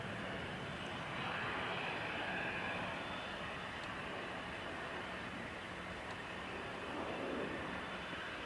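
An aircraft landing at Dublin Airport, a broad, steady jet engine roar heard from a distance that holds constant throughout, with no talking.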